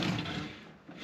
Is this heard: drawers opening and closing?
yes